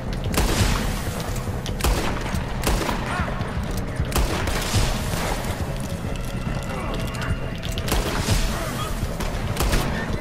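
Gunfire in a Red Dead Online shootout, several sharp cracks and bursts scattered through a busy mix of hoofbeats and game noise, with people talking over it.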